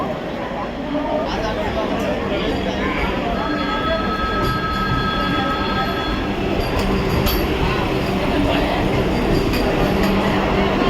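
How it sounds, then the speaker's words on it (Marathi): A Vande Bharat express train pulling into a station platform, a steady loud rumble of wheels and carriage noise with faint squealing tones, under a busy crowd murmur and people talking. "ट्रेन येते टायमिंगवर आली"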